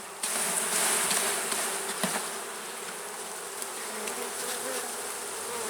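Honeybees from a nuc hive fill the air with a dense, continuous buzzing swarm drone during an inspection, close and steady, with faint clicks and no voices.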